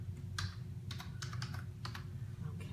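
Keys on a computer keyboard are typed in short, uneven bursts of clicks at close range in an office setting, set against a steady low background hum.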